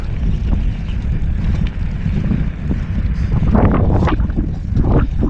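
Strong gusting wind buffeting the microphone, a loud low rumble throughout with surges toward the end, no talking.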